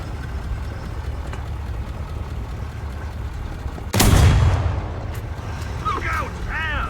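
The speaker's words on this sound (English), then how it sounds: "You can actually just watch the gentleman firing." A light cannon on a South African military vehicle in War Thunder fires a single loud, booming shot midway through, which stands out sharply over a steady rumbling battlefield background and leaves a decaying tail.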